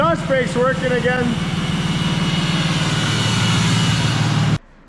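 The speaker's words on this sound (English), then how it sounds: "Exhaust brakes working again." Exhaust brake on a third-generation pickup truck, a loud, steady low rumbling drone that holds evenly and then cuts off abruptly near the end, with a brief voice at the start.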